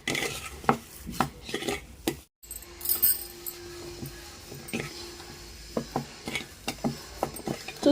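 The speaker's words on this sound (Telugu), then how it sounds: "ఇలా బాగా ఆవపిండి, మెంతిపిండి, సాల్ట్ ఇవన్నీ కలిసేలా కలుపుకోవాలండి" Gongura pickle being mixed by hand with mustard powder, fenugreek powder and salt, giving uneven close clatters and knocks of a utensil on a dish with a brief break and a faint hum, no talk.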